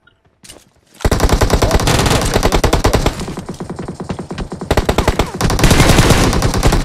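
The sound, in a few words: gunfire from enemies in PUBG Mobile video game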